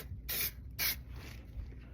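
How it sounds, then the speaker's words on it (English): Spray adhesive hisses from a can under a manufactured home while a hole in the rodent barrier and insulation is repaired, two short bright bursts of spray about half a second apart, close and fairly loud. "we recommend using spray adhesive"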